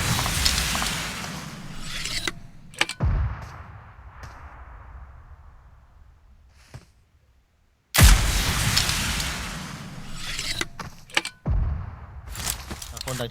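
Grenade explosions and gunfire in the mobile battle game PUBG Mobile: two heavy blasts with long decaying rumbles, separated by sharp cracks of shots and a brief silence, with players talking excitedly over the action.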